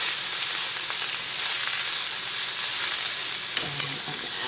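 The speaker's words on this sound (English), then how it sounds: "And let them start frying up with the onions." Noodles and onions frying together in a pan for a cheap, quick pseudo-Chinese noodle dish, giving a steady, loud, close sizzle with bright crackling hiss throughout and a few small stirring clatters near the end.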